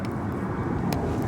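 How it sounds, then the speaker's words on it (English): Steady low drone of an airplane passing overhead outdoors, a brief continuous rumble with a faint hiss, heard alone without speech. "Airplane."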